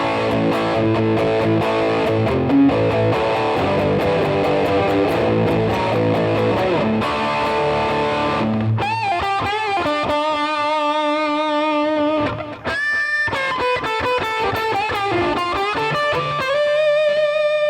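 Electric guitar through a hand-built BK Butler Tube Driver clone distortion pedal, played loud and alone: dense overdriven chord strumming gives way to sustained, bending lead notes with a short break near the end.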